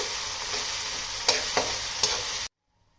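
Soaked chana dal and moong dal with sweet corn fry in a pan, making a steady close sizzle with a few sharp scrapes of stirring before the sound cuts off abruptly.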